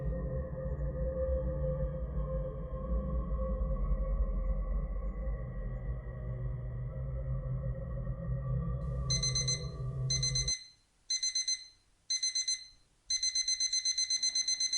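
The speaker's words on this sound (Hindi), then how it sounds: "अलार्म की आवाज सुनकर" An alarm clock set for midnight rings in a quiet room, starting as a steady hum and then breaking into repeated loud, high electronic beeping bursts with short gaps between them, no talk.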